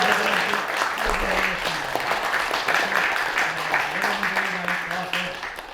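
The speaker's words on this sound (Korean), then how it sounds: "한번 일어나서 박수를 한번 받을까요?" Audience applause at a Korean arts association's 2020 New Year gathering, honoring a founding member; steady, dense clapping sustained throughout with a murmur of voices underneath.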